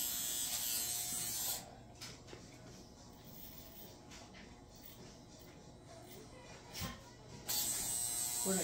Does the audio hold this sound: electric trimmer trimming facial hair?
yes